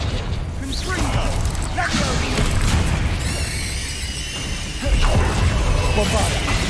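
Bombarda blasting spell going off in Hogwarts Legacy, a sudden crashing explosion with a shattering, debris-like tail, followed by a second heavy impact, set against dense game combat noise.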